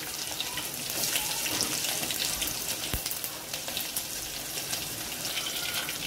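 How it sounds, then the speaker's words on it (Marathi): Mustard seeds, cumin and garlic frying in hot oil in a pan, a continuous close sizzle with faint crackles and a sharp pop near the middle. "अर्धा चमचा आपण मोहरी टाकून घ्यायची, अर्धा चमचा जिरे आपण तळून झाले की आपण लसूण टाकून घ्यायचं आहे"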